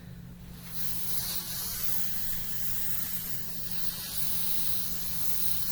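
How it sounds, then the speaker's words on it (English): Fabric adhesive sprays in one continuous close hiss onto fabric being assembled for a sewn bag, steady from start to end over a low background hum. "I'll use this spray for that."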